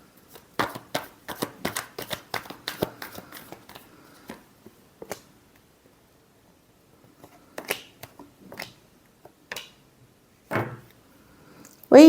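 Tarot cards riffled and shuffled by hand in a quick burst of crisp flutters and taps, followed by a few scattered card slaps and pauses in a quiet room.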